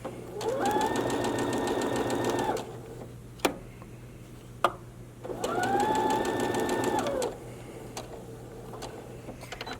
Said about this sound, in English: we're going to sew straight across that diagonal